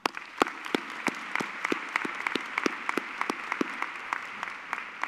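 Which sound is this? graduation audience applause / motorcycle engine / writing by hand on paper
graduation audience applause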